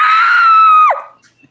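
A person vocally imitates a moose call with a loud, drawn-out, nasal bellow that holds steady and then drops sharply in pitch at the end, followed by quiet.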